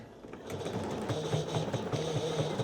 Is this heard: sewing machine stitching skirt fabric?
yes